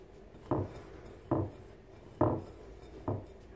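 Sugar and a pinch of salt are mixed together in a bowl: four evenly spaced, close scraping strokes with soft clinks, quiet between each.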